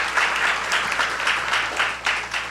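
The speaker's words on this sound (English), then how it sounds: "Give those young men a round of applause." Graduation audience applause at a 2024 high school graduation ceremony, a crowd clapping steadily in a large hall with a faint low hum beneath, no talking over it.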